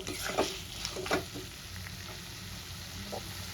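Spice paste with tomatoes frying in oil for a thin katla fish and potato curry gives a steady, close sizzle with a few brief stirring scrapes near the start, with no talking.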